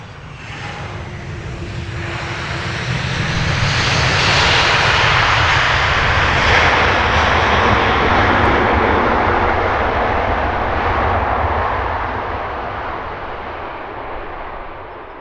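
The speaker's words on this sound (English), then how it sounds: "DHL touching down from Leipzig." A DHL A300 arriving from Leipzig touches down at Luton Airport, its jet engine roar swelling loudly to a sustained peak midway, then slowly fading as it rolls away.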